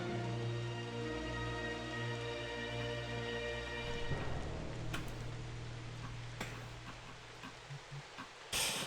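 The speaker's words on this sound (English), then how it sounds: "Rain continues to fall around you" Steady rain falls around a tabletop role-playing game scene, a continuous soft wash of drops with faint ticks and a few sharper taps, moderately loud throughout with no talking.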